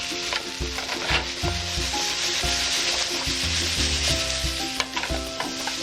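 Tomatoes hit a hot wok of stir-fried chicken and vegetables over high heat, giving a steady loud sizzle with scraping stirring strokes, while music plays underneath.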